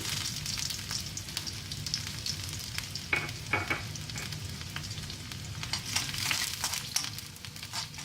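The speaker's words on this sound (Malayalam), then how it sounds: "എണ്ണ ചൂടായി വരുമ്പോഴത്തേക്കും കടുക്, ചെറിയ ഉള്ളി," Mustard seeds and small onions fry in hot coconut oil in a pan, a continuous loud sizzle with crackling pops and occasional stirring scrapes, no talking.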